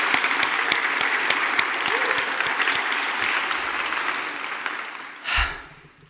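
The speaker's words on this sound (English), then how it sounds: "Let's give another round of applause to the incredible fellows." Audience applause at a social innovator showcase, dense steady clapping from a crowd that carries on for several seconds, then swells briefly and fades out near the end.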